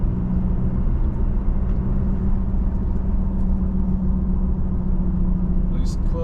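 A Toyota Tacoma pickup with a manual transmission drives along a flat stretch, its engine a steady, loud rumble with road noise as it shifts from third to fifth gear, a voice talking over it.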